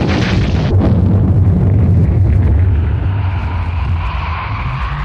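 A nuclear bomb explosion sound effect: a loud, deep, continuous roar and rumble that swells at the start and then holds as a heavy, sustained boom, with no voices.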